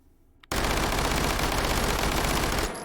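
An Uzi Micro fires one sustained full-auto burst in the video game H3VR, a dense, loud stream of rapid shots that begins abruptly after a quiet moment and lasts about two seconds.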